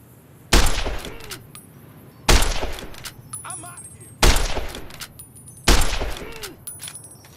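Gunfire in Fallout: New Vegas comes as four loud, sharp shots spaced about two seconds apart, each with a ringing tail and shell clinks, with a faint voice in between.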